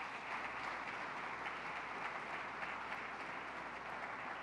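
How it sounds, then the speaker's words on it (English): A crowd claps steadily for the mayor in a dense, even burst of applause at a public safety briefing, heard from some distance and fairly quiet. "Let's give our great mayor a round of applause."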